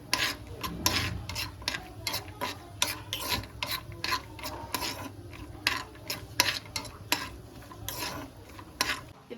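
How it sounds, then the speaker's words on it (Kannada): A spoon stirring and scraping in a pan while food fries in ghee until golden for fried rice, with a rapid, irregular rhythm of scrapes over a steady soft sizzle. "ಗೋಲ್ಡನ್ ಕಲರ್ ಬರೋವರೆಗೂ ಫ್ರೈ ಮಾಡ್ಕೋಬೇಕು."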